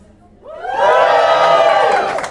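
An audience at the Comedy Works club erupts into loud cheering and whooping, swelling suddenly and holding at full volume as a dense crowd roar.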